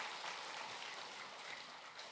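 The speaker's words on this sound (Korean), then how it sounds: "우리 박수로 환영하겠습니다" A church congregation claps at a Sunday worship service to welcome a visiting couple: a soft, steady wash of many hands applauding together at a distance, unbroken and without voices.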